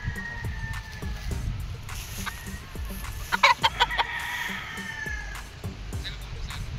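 A Sweater Boston gamefowl rooster with a straight comb, yellow legs and black spurs clucks in short bursts on a gamefarm, among other birds' calls and background noise.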